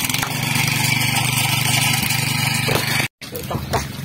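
A cement mixer's small engine runs steadily nearby on a construction site while plaster is being mixed, a loud continuous rumbling drone that cuts out for a moment near the end and then resumes.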